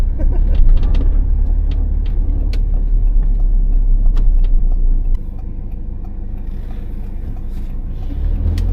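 Car cruising out of a country town's main street toward the grain silos, a steady low road rumble and engine hum that eases to a quieter tone partway through, with scattered small knocks.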